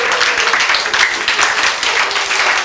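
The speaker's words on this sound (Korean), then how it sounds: "이 정도 함성 가지고는 안 돼." A lecture audience claps and cheers in a dense, loud burst of applause that carries steadily for a few seconds.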